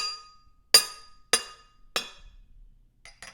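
Several sharp glass clinks from an ordinary drinking glass during a pu-erh tea tasting, three distinct loud strikes about half a second apart followed by two fainter taps, with no talking.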